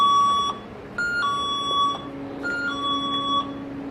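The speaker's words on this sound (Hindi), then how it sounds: "ये वो डिवाइस है जो किसी भी किस्म की मूवमेंट को डिटेक्ट कर लेता है, यानी इस डिवाइस के बीच में से जो भी कोई चीज़ गुजरेगी, इवन धुआं तक, ये उसे भी डिटेक्ट कर लेगा और हमें अलार्म देगा" A motion sensor alarm that detects anything passing through its beam, even smoke, gives off loud electronic beeps in a repeating two-tone pattern, high and piercing, with a soft background hum.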